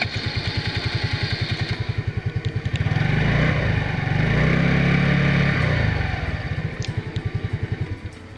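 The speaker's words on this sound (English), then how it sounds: "The revving of the engine is pretty cool and the sound is awesome" A Hero Maestro Edge scooter engine idles with a steady putter, revs up loudly for a few seconds, then drops back to a chugging idle.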